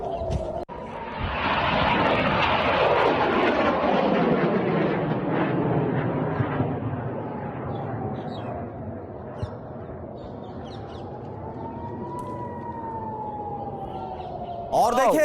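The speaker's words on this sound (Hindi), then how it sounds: "आयरन डोम से कई रॉकेट इंटरसेप्ट किए गए।" Air-raid sirens wail over Tel Aviv during rocket attacks intercepted by Iron Dome: a loud, long rising-and-falling tone with a rough rush of noise early on and a sharp burst at the end.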